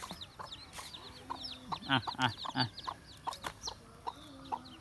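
A hen clucks in short bursts while chicks peep in high, thin chirps nearby; a person makes soft calling sounds among them.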